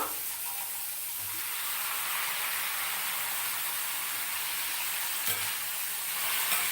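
Chopped tomatoes hitting hot oil in a pan sizzle with a steady, close, bright hiss that holds evenly throughout, broken by a couple of brief soft knocks.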